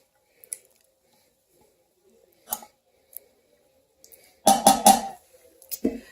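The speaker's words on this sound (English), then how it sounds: "Get my spatula and get all the goodies out of that bowl." A kitchen spatula scrapes food out of a bowl in a few short, scattered clinks and scrapes, with a denser cluster of scraping strokes near the end against an otherwise quiet room.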